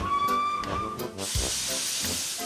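A steam locomotive hisses loudly as it puffs away from a station platform, with a broad rush of steam and a whistle-like tone, chuffs pulsing underneath.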